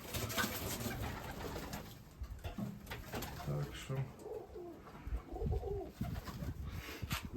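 Pigeons coo softly in a low, murmuring chorus inside a rebuilt dovecote, with occasional chirps and someone talking over them.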